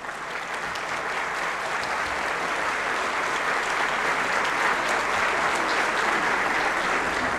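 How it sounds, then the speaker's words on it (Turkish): Sustained applause from a concert audience at a Turkish folk music performance, a dense, even roar of many hands clapping that holds steady and swells slightly throughout. "alkışları daha da güçlü istiyoruz efendim"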